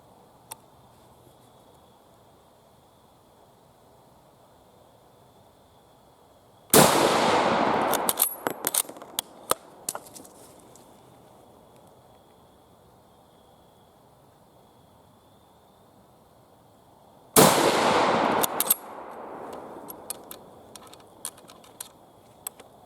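Two loud, sharp rifle shots from a British P14 Enfield at target practice, about ten seconds apart, each followed by a short ringing tail and scattered clicks and rattles.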